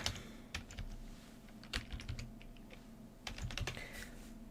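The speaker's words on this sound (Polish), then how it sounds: "Tutaj sobie wpiszemy pracownik" Someone types on a computer keyboard while entering data into an Excel spreadsheet, producing quiet, irregular key clicks in short bursts with brief pauses and no speech.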